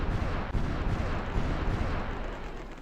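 Continuous heavy booming and rumbling of artillery fire in the strategy war game Supreme Ruler Ultimate, a dense, loud, unbroken barrage lasting a few seconds with no talk.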